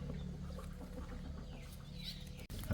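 Chicken clucking near a rural house, faint intermittent clucks against a low steady background hum, distant and quiet with no talk.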